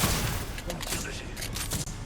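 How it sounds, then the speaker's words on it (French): Gunfire in the video game Apex Legends, aboard a train during a Winter Express match: a dense spray of shots crackles over busy game noise, with several sharp cracks clustered near the end. "On me tire dessus."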